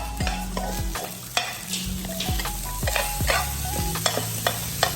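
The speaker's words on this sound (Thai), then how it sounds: "แล้วก็เราจะทำการผัดรวมกันนะครับ" Egg fried rice is stir-fried in a pan, with a spatula scraping and clanking against the metal in an uneven rhythm over a soft, steady sizzle. No one speaks.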